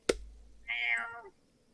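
One close cat meow, rising and then falling and lasting about half a second, comes just after a sharp knock, with quiet around it.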